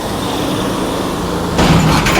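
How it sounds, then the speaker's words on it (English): Outside a container terminal on a waterfront, a steady traffic rumble suddenly swells into a louder roar as a truck passes close by near the end. "There goes the container trucks"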